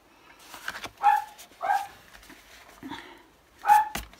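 A dog barks in a home craft room, a few separate sharp barks spaced about a second or two apart, fairly close, with quiet gaps between them.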